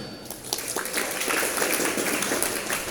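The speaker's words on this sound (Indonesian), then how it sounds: "tepuk tangan" Applause from an audience at an Islamic study gathering at a university, greeting a lecturer introduced as a permanent UIN faculty member; steady, fairly loud clapping fills the whole stretch.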